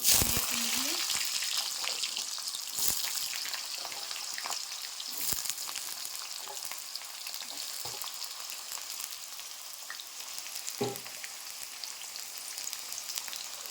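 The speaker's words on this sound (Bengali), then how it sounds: "ডালটা ভেজে নিলাম আজকে একটু ভেজে নিচ্ছি" Dried peas (dal) fry in a pan for ghugni, a continuous bright crackling sizzle like rain, with occasional utensil knocks and faint voice in the background.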